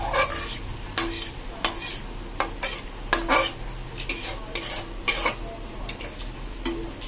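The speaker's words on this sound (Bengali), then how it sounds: "ঝোলটা ফুটুক।" Potato curry (aloo kosha) gravy cooks in a pot, with a soft sizzling bubble underneath and a spoon scraping and clinking against the metal in irregular bursts.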